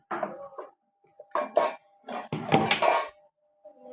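Grated bottle gourd is mixed by hand with rice flour, coriander and curry leaves in a bowl, giving several short bursts of soft, wet scraping and clinking against the bowl, separated by brief pauses.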